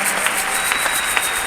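Church congregation applauding during a worship service, steady soft clapping heard alone at moderate level with a few sharper claps standing out.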